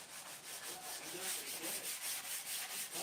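Sandpaper rubs across wood in a workshop, giving a close, continuous hissing scratch that swells and fades with each quick back-and-forth stroke in a steady rhythm.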